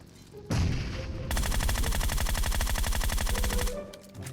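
Rapid automatic gunfire from a buggy in PUBG Mobile rattles in a steady burst lasting a couple of seconds, loud and close, following a sharp initial blast.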